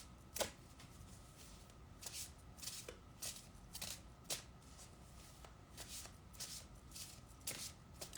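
A deck of tarot cards is shuffled repeatedly by hand, producing a steady series of crisp riffling bursts at close range, fairly quiet and with no talking.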